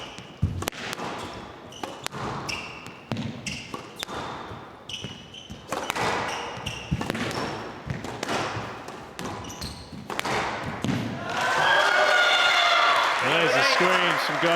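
Spectators clap at a women's squash match in a professional tournament, a short patter of applause mixed with ball thuds, squeaking shoes and a commentator talking over the court.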